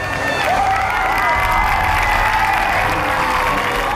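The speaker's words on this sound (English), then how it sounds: "As Todd Burns exits his vehicle, the crowd roars its relief." A speedway grandstand crowd roars in relief after a crash as a driver climbs from his car, a loud sustained wall of cheering, shouting and clapping from many people throughout.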